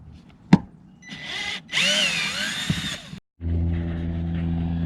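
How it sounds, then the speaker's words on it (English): A power drill backing screws out of an RV roof vent cap, heard up close in short whining bursts with rising and falling pitch, then a steadier lower motor drone after a brief gap. "So that's kind of what I'm doing now, just getting these screws out"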